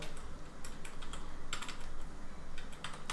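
Typing on a computer keyboard: a quiet, fairly quick and uneven run of light key clicks with short bursts, with no talking.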